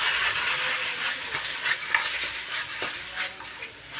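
Chicken sautéing in a pan for tinola gives a continuous close hiss and crackle of frying, with light intermittent scrapes as it is stirred, alone and fairly loud.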